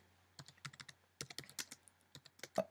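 Keys tapped on a computer keyboard in quick irregular bursts, close and fairly quiet, with a short pause midway and no talk.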